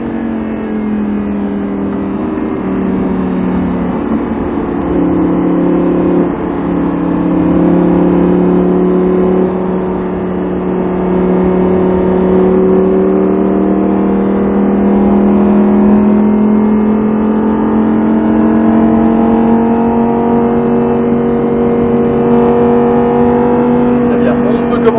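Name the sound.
Lamborghini Huracan accelerating on a race circuit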